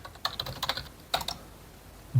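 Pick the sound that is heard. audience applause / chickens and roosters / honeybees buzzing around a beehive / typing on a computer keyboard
typing on a computer keyboard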